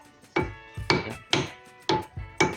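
Five sharp metallic-wooden knocks from hammering out a rear hub bearing, at a steady, unhurried pace, close by and fairly loud, with brief ringing after each strike.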